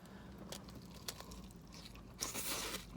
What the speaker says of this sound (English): You hear that crunch?